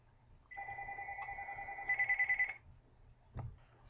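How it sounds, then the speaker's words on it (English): A telephone rings faintly with an incoming call, one electronic ringing burst lasting about two seconds with a fluttering pulse near its end, in an otherwise quiet room. "Oh, we had a little phone call coming in."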